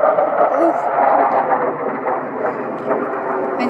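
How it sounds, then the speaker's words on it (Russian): A fighter jet near a US Air Force base in Utah roars steadily in the distance, a broad sustained rumble with a voice speaking over it. "О, вон полетел истребитель."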